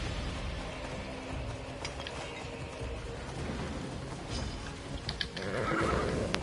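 A horse whinnies and its hooves clip-clop in a PS4 video game, the sounds fairly close over steady game ambience, with a louder rustling burst near the end.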